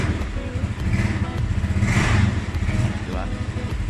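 A motorcycle engine turns over and settles into a steady idle with a brief rise in revs, close by and fairly loud, while someone talks over it.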